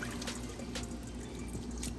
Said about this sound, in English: We're going to go ahead and add the water to that.